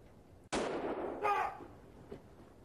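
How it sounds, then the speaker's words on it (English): A single loud gunshot in the Mad Dog McCree video game, one sharp crack with a long ringing tail, then a brief metallic ricochet-like burst and a faint trailing tap. "I just had to shoot him before he actually went for his gun."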